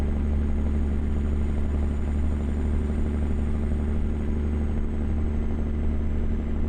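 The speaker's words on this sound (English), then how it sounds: "So the engine sounds good." Steady low drone of a Kenworth Needle Nose truck engine in American Truck Simulator, running at constant revs with a faint high whine above, continuous and unbroken.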